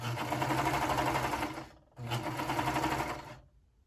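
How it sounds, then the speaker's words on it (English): A sewing machine stitches a shoulder seam in two steady, loud runs, the first lasting well over a second, then a short pause before the second run starts. The motor hums close by with no voices over it. "I'm going to take it over and sew this seam."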